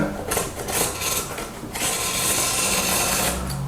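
A utility knife trims excess cured fiberglass from the edges of plywood plates for a homemade sea kayak. It makes close, rough rasping and scraping strokes that run almost without pause, and no one speaks.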